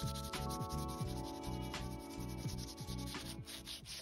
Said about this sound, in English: I used my sander to smooth out the wood filler